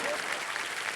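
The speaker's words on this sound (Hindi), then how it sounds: "अब ताली मारो" Studio audience applause on an Indian TV game show, a steady broad wash of many hands clapping throughout with a faint voice mixed in.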